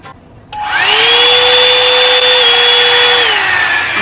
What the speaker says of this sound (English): I usually like to blow dry my hair when it's wet